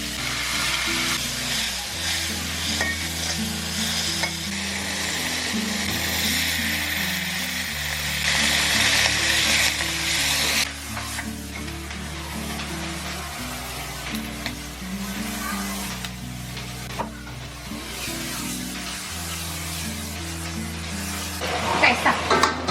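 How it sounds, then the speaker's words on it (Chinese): Crabs pan-frying in a pan give off a loud, continuous sizzle and crackle that fills the whole stretch, with occasional clatters of a utensil or lid and a steady low hum underneath. "然后我们给它煎一煎哈。"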